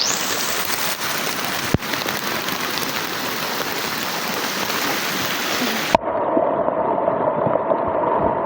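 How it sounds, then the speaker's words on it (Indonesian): Steady, dense rain hissing on a surface on Gunung Kembang, a mountain in Indonesia, continuous throughout, with a brief click midway and a sudden shift to a duller, muffled downpour. "Oh, hujan-hujan."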